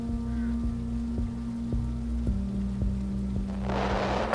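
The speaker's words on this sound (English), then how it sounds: "The rain keeps pouring, yet despite the flood and harsh weather" Heavy, pouring rain in the horror video game What Have You Done Father, a steady wash that swells sharply louder near the end over a low, sustained musical drone.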